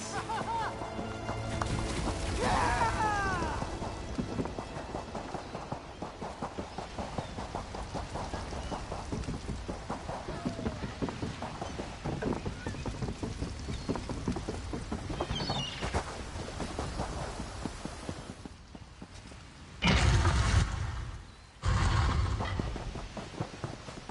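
Steady rain from a thunderstorm in Elder Scrolls Online, a dense constant patter throughout, with a sudden louder burst of heavier rain or thunder near the end.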